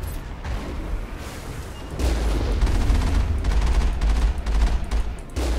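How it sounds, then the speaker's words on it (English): Rapid bursts of gunfire from shooting enemies in the Mass Effect video game, loud and close, swelling into a dense continuous volley after a quieter opening. "I'm shooting them, Tali."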